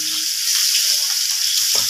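Steady, close sizzling of fish frying in hot oil, a continuous crackling hiss with a few brief sounds over it.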